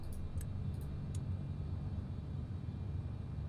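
Simulated aircraft engine in Microsoft Flight Simulator 2020 while taxiing down a runway, a steady low rumbling drone held at a constant level for the whole stretch, with no talk over it.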